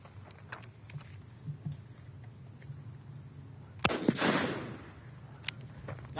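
A Mossberg 12 gauge shotgun fires one sharp blast with a 1 1/8 ounce load outdoors, followed by a brief rumbling echo, amid faint background noise.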